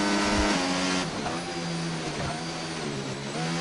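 Formula One race car engine heard onboard Max Verstappen's car in an F1 video game, a loud sustained high-pitched whine with gear shifts and pitch drops, close and continuous with no talk.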